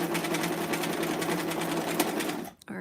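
A sewing machine running continuously at a fine, dense stitch while sewing a thrifted pillbox hat, a rapid even whirring chatter that cuts off abruptly near the end.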